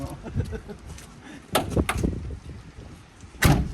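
Car door being worked on and shut, with a couple of sharp knocks and a final clunk close by, mixed with quiet background noise and faint talk.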